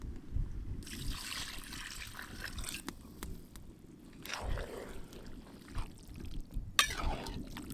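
Water poured into a mutton boti curry with chickpeas and byadagi chilli powder, a soft trickling splash lasting several seconds with quieter dribbles, close and fairly faint, no talking.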